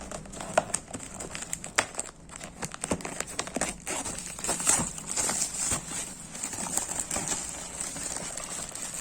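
Plastic packaging around Microsoft Azure community swag is pulled open, producing loud, close crinkling and crackling. Irregular bursts of rustle run continuously throughout, with no speech.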